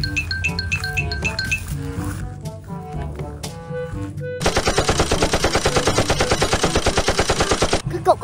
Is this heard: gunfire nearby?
yes